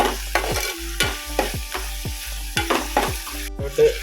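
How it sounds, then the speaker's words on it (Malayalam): Onions fry in a pan while a spoon stirs them toward brown, producing a steady sizzle punctuated by about nine rhythmic scraping strokes, close and with no voices. "ഉള്ളി എന്ത് ചെയ്യണം, ബ്രൗൺ കളർ ആവുന്നത് വരേക്ക് എന്ത് ചെയ്യുക, ഇങ്ങനെ ഇളക്കി കൊടുക്കുക"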